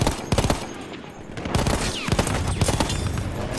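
An MG15 machine gun in Battlefield 1 hammers out several loud, rapid bursts separated by short pauses, over steady battlefield noise on a mountain.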